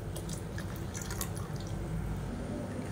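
Water splashes and drips as a mixer grinder jar is rinsed and topped up after grinding coconut chutney in a home kitchen, with close, steady trickling and scattered droplet plinks.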